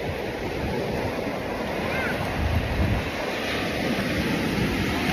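Ocean waves roll steadily onto Casiguran beach, a continuous loud surf wash with wind buffeting the microphone.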